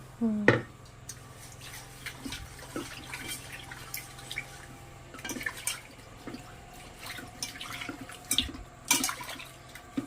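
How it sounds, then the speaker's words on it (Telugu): Fish pieces washed with salt and water in a sink: faint dripping, splashing and handling clatter come in irregular bursts, with soft voices in the background. "ఉప్పు వేసుకొని శుభ్రం కడుక్కోవాలిరా"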